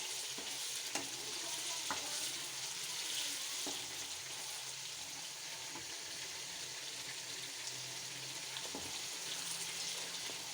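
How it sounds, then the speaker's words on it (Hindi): Chicken kadai sautéing in a pan, with a continuous fine sizzle and occasional scrapes and clinks of a spoon stirring, close but fairly quiet. "चार से 5 मिनट के लिए हम इनको भूनेंगे"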